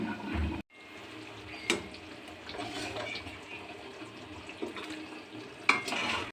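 Mutton kosa frying with Kashmiri chilli powder in a pan, a continuous close hiss with occasional clinks and scrapes of a spoon against the metal.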